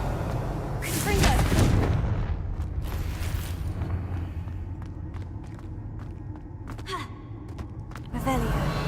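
A Confringo fire-blast spell cast in Hogwarts Legacy erupts as a loud burst around one second, followed by scattered sharp cracks and thumps, with voices speaking during the clip.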